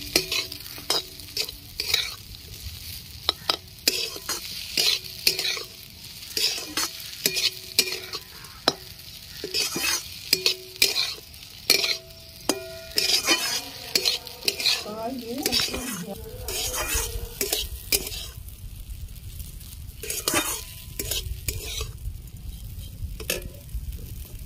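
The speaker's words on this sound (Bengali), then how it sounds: "ঘি দিয়ে ভালো করে নেড়ে চেড়ে নেব" Semolina being stirred in ghee in a pan for a spicy suji breakfast with winter vegetables, heard as repeated close scraping and clacking of a spatula against the pan over a low sizzle, irregular strokes throughout with a quieter stretch near the end.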